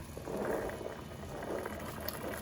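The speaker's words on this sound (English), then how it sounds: "our water is boiling" Water bubbles and churns at a rolling boil in a pot for blanching peas, a soft, uneven gurgling close by with no voices.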